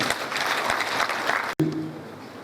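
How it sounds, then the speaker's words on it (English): An audience at a 2014 graduation ceremony applauds to welcome a speaker, dense clapping cut off abruptly, then a fainter tail with a voice beginning underneath. "Please welcome him with a round of applause"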